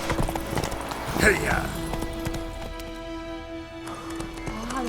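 Hooves of the horse Roach clip-clop at a trot in The Witcher 3, close and steady over game music, with a man calling out over the first seconds.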